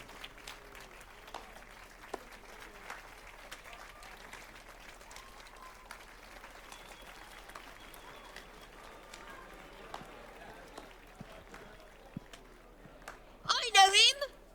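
Crowd applause inside The Witcher 3: Wild Hunt, a burst of clapping that breaks out loudly near the end after a long stretch of quieter game ambience and talk.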